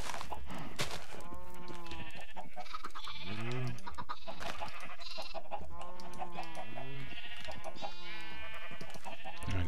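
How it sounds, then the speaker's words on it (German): Sheep in the Minecraft video game bleat repeatedly, several wavering calls overlapping close by, with steady game background and occasional speech. "Nein, das ist ein Schaf."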